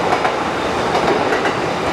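Trains passing through Ikebukuro, Tokyo, producing a loud, continuous rumble with rhythmic clickety-clack of wheels over rail joints, close by and steady throughout, no voices.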